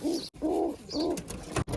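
A pigeon sitting by its hatched eggs gives three close, soft, throaty coos in a slow rhythm, each a rounded rolling call separated by brief pauses.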